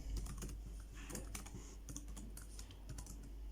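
Code is typed on a computer keyboard in quick, irregular bursts of close key clicks and taps, fairly quiet, with no talking.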